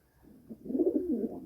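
A single female pigeon gives a close, low, rolling coo that swells and wavers for about a second in an otherwise quiet space.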